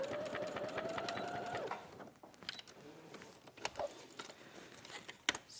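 Near and alone, a sewing machine runs steadily for under two seconds, stitching a seam in fabric with a rapid whirring hum, then stops, followed by small handling clicks and taps.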